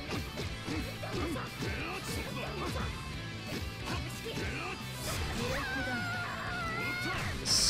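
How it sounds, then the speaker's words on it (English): Heavy impacts and crashing hits from the UNIST fighting game as a character is slammed to the ground, a rapid series of thuds and smacks under game music and effects, with voices throughout. "Smashes the poor woman to the ground"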